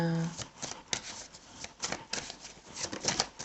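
Oracle cards being shuffled by hand at close range, a dry, rapid riffling and flicking that comes in quick bursts, with a person talking softly underneath.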